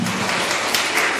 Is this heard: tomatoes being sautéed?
no